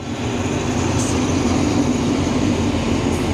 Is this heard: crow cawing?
no